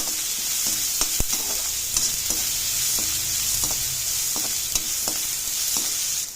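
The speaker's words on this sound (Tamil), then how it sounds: "மிளகாய், வெங்காயம், இஞ்சி பூண்டு பேஸ்ட்டு லைட்டாக ஸ்டவ் கொஞ்சம் சின்ன வச்சு கொஞ்சம் நல்லா வதக்கிக்கலாம்" Green chillies, onion and ginger-garlic paste sautéing over low heat in a pan for upma: a steady bright sizzle with scattered spatula taps and stirs, close up, no speech.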